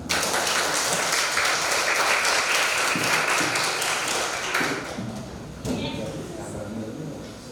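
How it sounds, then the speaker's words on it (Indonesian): Elementary schoolchildren in a Banyuwangi classroom burst into loud, dense applause that holds steady for several seconds, then thins out and tapers toward the end. "Tepuk tangan."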